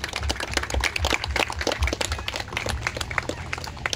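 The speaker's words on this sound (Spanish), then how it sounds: "Démosle un fuerte aplauso a nuestro Padre Celestial." A crowd applauds at a gathering after a football final in La María, Santa Lucía, Honduras, with busy, irregular clapping from many hands at close to moderate distance.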